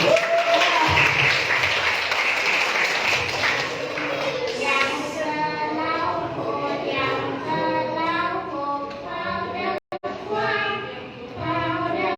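A crowd at a Thanksgiving party bursts into loud, sustained applause for several seconds, which fades as a voice and other talk take over.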